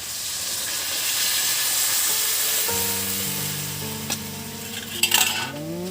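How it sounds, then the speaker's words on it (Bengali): Water is poured into a hot pan of frying potatoes with ginger, black cumin, dried chillies and bay leaf for Bengali aloo posto, giving a steady close sizzle that swells into a louder hiss and bubbling, with a few utensil clinks near the end. "এবার এর মধ্যে জল দিয়ে দিচ্ছি বন্ধুরা"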